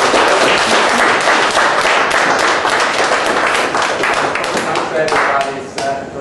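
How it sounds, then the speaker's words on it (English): An audience at a book launch for a bird book by Adrian Walker applauds loudly, a dense, sustained clatter of many hands close by that thins slightly at the very end. "I'd like everyone to give Adrian a great round of applause."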